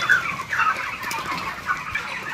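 Broiler chickens cluck and squawk in a steady chorus on a poultry farm in Nagaon, a dense flock sounding close and continuous with no talk.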